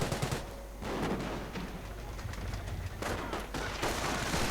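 MG42 machine gun fire in a World War II strategy video game battle with snipers and Panzer tanks, a dense continuous rattle of automatic fire and blasts with brief dips.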